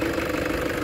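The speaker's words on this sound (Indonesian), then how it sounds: "lanjut untuk mendengarkan suara mesinnya. Mesin masih sangat halus, rata," A Toyota Hilux Vigo diesel engine idles steadily nearby, a smooth, even mid-low hum with a faint rhythmic knock, running alone without any talk.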